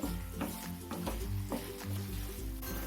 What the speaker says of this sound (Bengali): ভালো করে নাড়িয়ে দেবো আমি